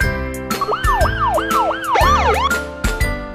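Police car siren wailing in steady rising-and-falling sweeps, close and loud, with a faster yelp pattern near the end and brief breaks in the sound; no talk.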